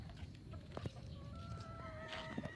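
Young gamecock stags clucking while feeding on a farm, with scattered short calls and some faint higher chirps over steady low background noise.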